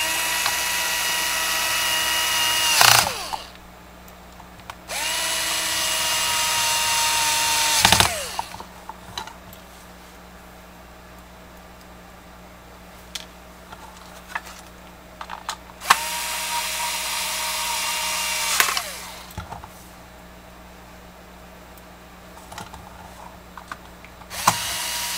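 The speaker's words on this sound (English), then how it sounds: "I do have my clutch set on the lowest setting, so if you happen to have this screw gun" A cordless screw gun set to its lowest clutch setting drives screws into plastic on a FlySky GT3B transmitter, giving two loud whirring runs with quieter handling clicks between them.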